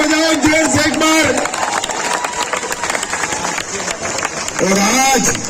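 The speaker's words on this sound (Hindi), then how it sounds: "सुनीता जी के लिए ताली बजाओ जोर से एक बार" Crowd at an outdoor political rally in Makrana clapping and cheering loudly for a young candidate, a dense sustained roar of applause between stretches of a speaker's amplified voice.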